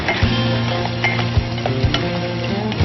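Onions sizzling as they fry in a pan for mechado, a steady loud crackling hiss with a few clinks and scrapes of a utensil stirring against the pan.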